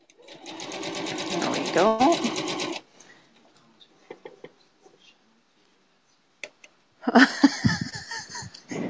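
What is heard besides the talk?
sewing machine stitching quilt seam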